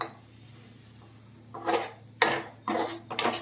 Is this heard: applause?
no